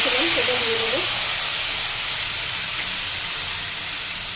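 Turmeric, cumin and coriander hit a hot pan with a loud, continuous close sizzle that holds steady throughout and eases only slightly toward the end.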